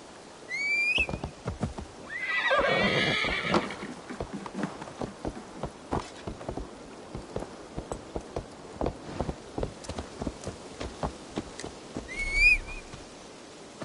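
Horse sounds in the Viking-era game Assassin's Creed Valhalla: a rhythmic run of hoof clops throughout, a breathy snort early on, and short high whinny-like cries near the start and end, at moderate loudness.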